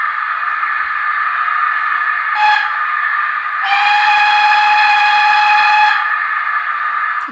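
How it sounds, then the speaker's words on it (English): A model train on a Z21-controlled layout sounds its whistle, first a short toot, then one long, loud, sustained multi-tone blast lasting a couple of seconds over a continuous steady tonal drone. "I love that long horn."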